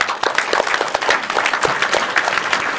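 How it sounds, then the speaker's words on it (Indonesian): Applause from a school audience at an SMA Al Islam Krian event, a steady wash of many hands clapping together, close and fairly loud, with no voices standing out. "Tepuk tangan dong"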